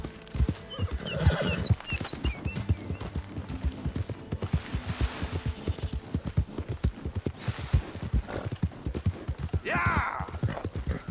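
A horse gallops in Red Dead Redemption 2, its rapid rhythmic hoofbeats steady and close. A whinny rises near the end.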